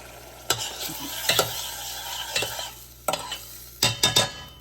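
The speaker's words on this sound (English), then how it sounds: "Let it sizzle." Tomato puree sizzles steadily in a hot frying pan, with a few sharp scrapes and clatters of a spoon stirring against the pan.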